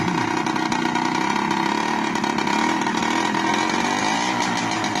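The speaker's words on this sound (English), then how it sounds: "Just rev it. Just rev and go." A 1999 Sym Jet 50cc scooter engine revs continuously, a loud buzzy two-stroke whine holding high with slight fluctuations, close by and without talk.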